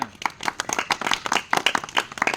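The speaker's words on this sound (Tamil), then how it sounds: "very good ஜோர கைதட்டுங்க" At a kids' club Bible session, children clap loudly in an uneven, scattered burst, individual sharp claps overlapping closely for a couple of seconds.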